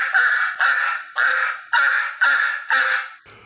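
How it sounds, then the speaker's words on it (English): Ducks quack and honk in six loud, evenly spaced harsh calls, close and alone, ending with a brief softer noise. "the sound of those rabid ducks"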